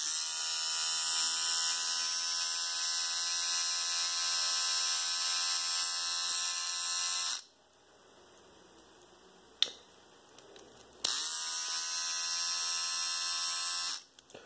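A Kemei electric nose hair trimmer runs with a loud, high, steady buzz, cuts off for a few seconds with a small click, then buzzes again before switching off.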